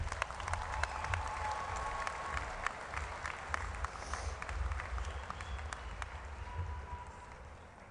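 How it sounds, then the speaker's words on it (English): A high school graduation audience applauding the graduates, steady crowd clapping at moderate distance that continues evenly and fades slightly in the last seconds, with occasional whoops. "Let's take another pause to applaud these graduates."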